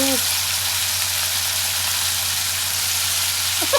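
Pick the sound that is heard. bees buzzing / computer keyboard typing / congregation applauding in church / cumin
cumin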